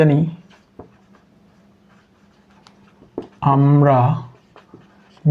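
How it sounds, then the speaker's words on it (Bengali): A pen scratches faintly on paper during a physics lesson on simple harmonic motion, with soft intermittent strokes between short bursts of a voice speaking. "এবার লিখব আমরা"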